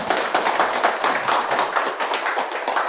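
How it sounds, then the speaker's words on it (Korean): A lecture audience claps a welcome steadily, dense and continuous, many hands close by, with no voices on top. "큰 환영의 박수 보내주시기 바랍니다"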